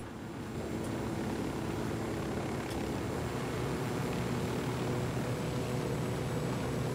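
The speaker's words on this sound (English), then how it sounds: "Now you can fly the helicopter quite easily with the keyboard and mouse" A helicopter flies in the video game Ghost Recon Wildlands, giving a steady, droning engine and rotor hum that holds at an even level throughout, with no talk over it.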